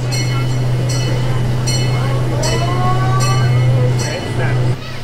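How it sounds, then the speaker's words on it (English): A fairy tale train ride at Holiday World amusement park in Santa Claus, Indiana, with a constant low rumble and hum, repeated light clinks and squeals, and someone talking over it. "this is cool. It's like a fairy tale train ride."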